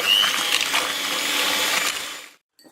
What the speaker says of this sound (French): je vais fouetter pour doubler, voire tripler le tout en volume